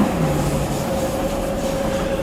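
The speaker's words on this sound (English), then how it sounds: "That's the sound of a DLR train, driverless electric vehicle" A DLR driverless electric train runs alongside the London ePrix circuit, a steady rolling rumble with a sustained tonal whine holding loud and even throughout.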